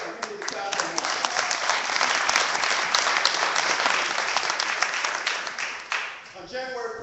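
An audience applauds at a Black Lives Matter rally honouring Oscar Grant, dense continuous clapping that fills the room for several seconds before tapering off as a voice resumes at the end.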